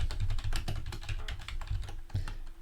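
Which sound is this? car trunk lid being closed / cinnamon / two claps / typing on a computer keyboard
typing on a computer keyboard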